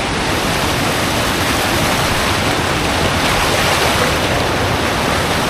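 River water surges down a flood-control channel in Taiwan, a loud, unbroken roar of rushing water that stays steady throughout.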